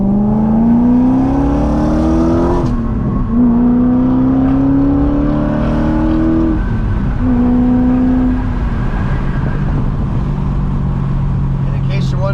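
A BMW E34 540i's engine revs up through the gears, the exhaust note climbing in pitch with each pull, loud and close.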